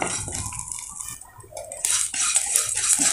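Aval (poha) roasting in a pan over medium heat, stirred with a utensil, making close scraping and clinking against the pan with a dry hissing rustle that swells in the second half.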